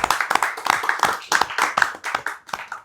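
Audience applause rings out close and lively, a dense run of claps with rhythmic peaks lasting about three seconds and no talking over it.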